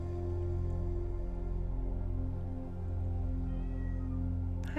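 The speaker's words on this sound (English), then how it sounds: "I don't know if you can hear Sandy meowing" A pet cat meows faintly against a loud, steady droning hum of ambient music, with no talking.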